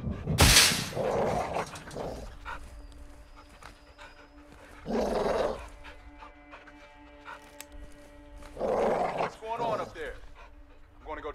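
Dog barking in Call of Duty: Modern Warfare II, a few loud bursts spaced through the stretch over a steady game ambience, with voices speaking over it.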